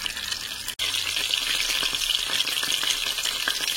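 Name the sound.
Chanda fish frying in a pan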